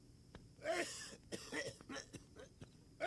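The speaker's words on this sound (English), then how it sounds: "before this man stops coughing" A man coughs in a few rough bursts, one after another, with some murmuring noise between them, in the video game Dead Synchronicity.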